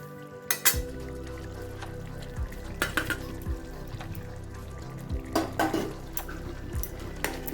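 Egg added to bottle gourd curry and stirred in the pot: a steady sizzle with repeated close metal scrapes and clinks of a spoon against the pan, a few sharper knocks, no voices.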